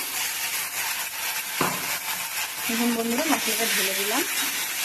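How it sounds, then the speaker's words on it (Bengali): Spice paste sizzles and fries steadily in a pan over already fried onions for a Bengali fish curry, a close continuous hiss with brief stirring scrapes and a voice talking over it. "পেঁয়াজটা ভাজা হয়ে যাওয়ার পরে মশলাটা ঢেলে দিলাম"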